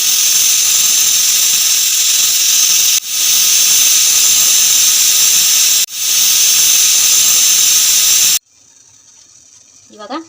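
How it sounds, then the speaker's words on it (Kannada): A pressure cooker whistles loudly and close, a continuous hissing steam blast broken by brief dips, then cut off into near silence with faint sounds and a voice at the end. "ಕುಕ್ಕರ್ ಬಾಯಿ 3 ವಿಸಲ್ ಆಗಬೇಕು."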